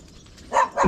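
Two sharp, fairly close barks come from farm dogs in quick succession after a quiet stretch.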